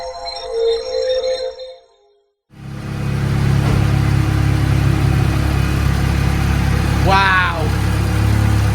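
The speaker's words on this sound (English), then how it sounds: "We're just doing some power runs" A K24-swapped Honda Civic strapped to a dyno, its engine roaring loud and close through a sustained power run after a brief silent gap, with a rising whine near the end and a voice briefly exclaiming.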